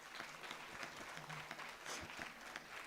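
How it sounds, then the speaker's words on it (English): Applause for a Bharatanatyam dance drama performer at a live arangetram, a soft, steady patter of clapping from an audience, fairly distant and even throughout, with faint voices mixed in. "A round of applause for Rama ma'am."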